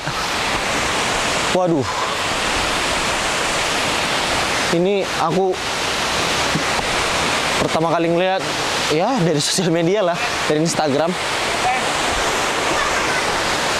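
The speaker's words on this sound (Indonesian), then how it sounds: "mari kita melihat pemandangan air terjun Efrata lebih dekat." Efrata waterfall on Samosir at Lake Toba roars as a loud, steady broadband rush throughout, with a person speaking intermittently over it.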